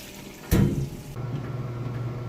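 A Whirlpool washing machine starts filling with water: a sudden rush of inflow, then a steady low running hum and trickle that carries on to the end, with no talk.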